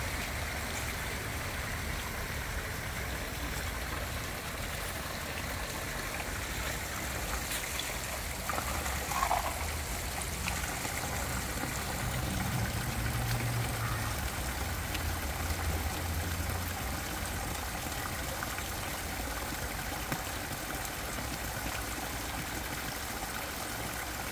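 Fresh, crystal-clear water trickles continuously down the Weeping Rock in the ancient village of Chodak, Uzbekistan, making a faint, even wash with no pauses.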